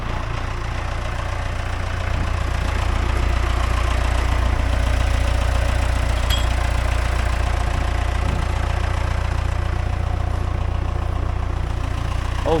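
A heavy tractor engine idles continuously with a deep, steady rumble and a rattly knock throughout, close by and loud, with no voices.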